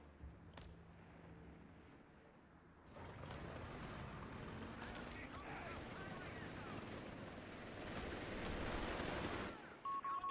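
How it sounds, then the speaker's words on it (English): MG-42 machine gun fire in the Company of Heroes 3 strategy game, sustained rattling bursts of gunfire mixed with other battle noise, heard under commentary. "We have an MG-42 on the way."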